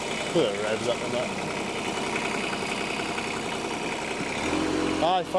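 A car engine idles steadily up close, its hum rising slightly near the end as the revs are raised, with a voice briefly audible.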